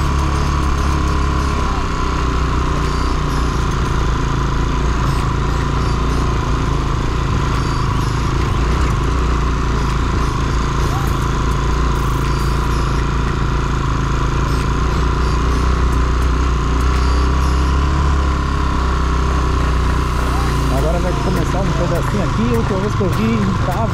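Motorcycle engine droning steadily while climbing a steep, muddy hill track, a continuous loud drone near the microphone with slight pitch changes toward the end.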